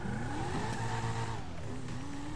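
An exotic sports car in GTA 5 accelerating hard, its engine note rising steadily in pitch through a continuous loud rev with no voices over it.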